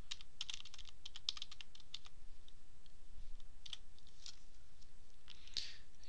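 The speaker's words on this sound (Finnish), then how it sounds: "Kirjoitan tuohon soluun." Rapid clicking of computer keyboard keys as someone types data into a spreadsheet cell, bursts of close, crisp keystrokes with brief pauses, no talking.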